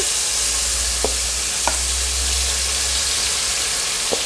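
Fish marinade sizzles and hisses steadily in hot oil in a pot for biryani, with a few faint clinks of a utensil, close and continuous.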